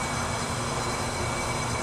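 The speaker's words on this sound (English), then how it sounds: "Okay, this is how quiet the wheel bearings are." A red 1997 Geo Metro drives along with freshly replaced, quiet wheel bearings. The cabin is filled with steady broadband road and engine noise that stays even throughout, with no talk.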